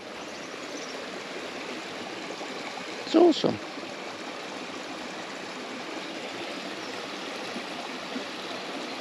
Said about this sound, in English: sort of streams have a bit of rarity value in southern Spain